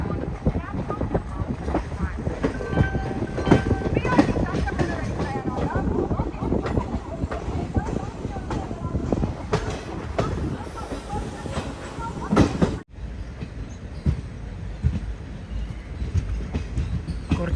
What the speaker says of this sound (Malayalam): ഈ കാണുന്നത് മാവേലി എക്സ്പ്രസ് ആയത്, മംഗളൂരു ട്രിവാൻഡ്രം. വളഞ്ഞു വരുന്നുണ്ട്.